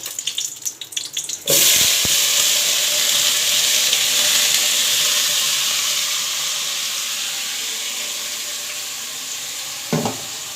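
Fish curry with potato and brinjal hits a hot pan with a sudden loud hiss, then settles into a steady, slowly fading bubbling sizzle, no talking.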